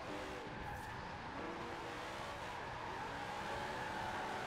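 Zenvo TSR-S hypercar drifting in a racing video game, engine roaring steadily with tires squealing through the slide, continuous and loud for the whole stretch with no voices.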